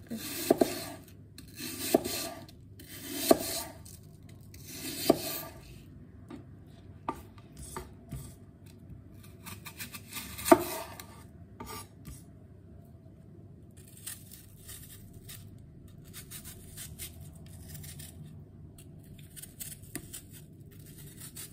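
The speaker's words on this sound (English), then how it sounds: "I'm gonna just continue with this, with peeling and slicing my apples" Apples being peeled and sliced by hand for an apple cobbler, with a series of soft scraping and knife-cutting strokes at a steady rhythm early on, thinning to quieter scattered cuts and rustles.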